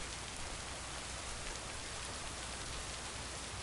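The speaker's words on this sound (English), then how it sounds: "It's a rainy morning in Providence Oaks." Steady rain falls on a morning in the video game Lake, a dense, even hiss of drops with no other sounds over it.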